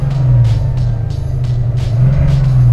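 A 771 hp Bentley hybrid idles while stationary with a loud, steady low engine drone and a deep continuous hum, up close and unchanging throughout.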